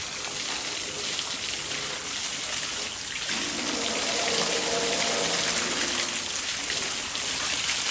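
A hose sprays water over a mud-caked tractor trolley, a loud continuous wash of hissing spray and splashing that shifts in tone midway as the stream hits a different surface.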